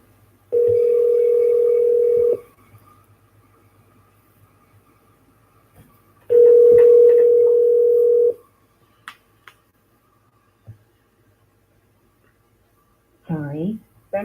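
Two steady telephone line tones, each about two seconds long, sound loud and clean on a call being transferred to a police precinct line. A quiet gap separates them, a few faint clicks follow, and a short burst of voice comes at the end.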